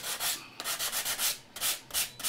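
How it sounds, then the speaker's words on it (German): Sandpaper rubbing over dried filler on a model stone bridge for a model railway layout, a run of close, even scraping strokes with brief pauses between them, no voices. "ich schleife mit solchen"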